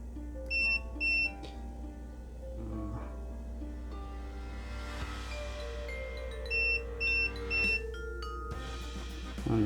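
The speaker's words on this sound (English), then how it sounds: "Oh, but it did beep" Short high electronic beeps from a test meter checking a Siglent SDG-series signal generator under repair come in two quick bursts of paired tones, one early and one late, over a steady low electrical hum.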